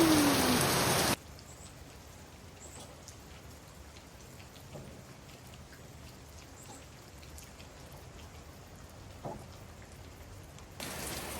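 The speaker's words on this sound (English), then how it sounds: "It's pouring." Heavy rain pours down during a storm as a steady, dense hiss of drops on surfaces. It is loudest at the start and end and softer and more distant in the middle.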